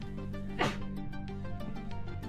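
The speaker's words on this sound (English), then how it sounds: "I'm about to sneeze" A single sharp sneeze bursts out close to the microphone over a steady background hum.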